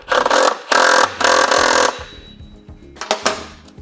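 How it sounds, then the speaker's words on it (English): Wrench work on the front wheel axle nut of an ES5 scooter, a 15mm holding the axle while a 19mm tightens the nut: a few loud close ratcheting and clanking bursts, then softer taps and clicks. "I'm going to use that 15mm to hold the axle stationary and the 19 to tighten the nut back down."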